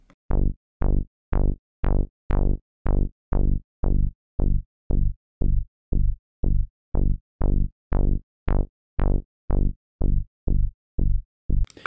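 A synth bassline repeats a steady run of short, punchy notes, loud and isolated. The filter on each note opens and closes with velocity, so the tone shifts between brighter, raspier hits and duller, rounder ones.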